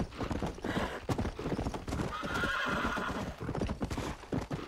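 Horse hooves clip-clop in a steady, close trotting rhythm in the Red Dead Redemption video game, with a neigh and faint game ambience in the mix.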